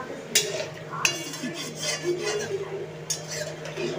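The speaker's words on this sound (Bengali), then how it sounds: "চলো একটু ভালো করে নাড়িয়ে নিই।" A light fish curry with potatoes and water being stirred in a pot, heard as close scraping and sloshing strokes with a few sharp metal knocks against the rim.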